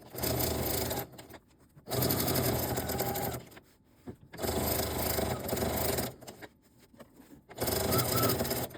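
Sewing machine with a walking foot stitching binding onto a hot water bottle cover, running in steady loud bursts of about one to two seconds separated by short pauses, close up.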